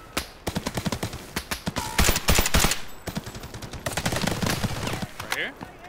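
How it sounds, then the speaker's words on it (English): Enemies fire on the player in the shooter Delta Force Hawk Ops extraction mode, with rapid machine-gun bursts and single gunshots crackling close and loud in quick succession, then a denser stretch of mixed gunfire and battle noise. "They're shooting at me already."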